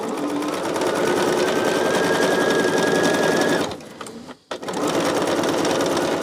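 A home sewing machine stitches a quilt in a steady, loud mechanical whir, running continuously for several seconds before stopping briefly and then starting up again.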